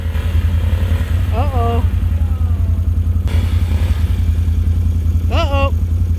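A four-wheeler ATV fitted with a snow plow runs loud and close, its engine drone steady throughout while a person speaks over it briefly.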